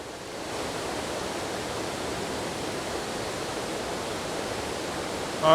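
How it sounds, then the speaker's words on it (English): A small waterfall cascades over rocks and tree roots outdoors in misty, rainy weather, giving a steady, dense rushing roar that holds constant throughout with no voices. "So I've just seen this little waterfall here with some tree roots in front of it, and a nice rock in the frame there."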